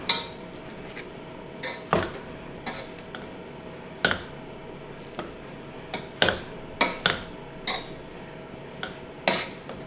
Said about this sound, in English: I just like to use a hand masher to get the big lumps out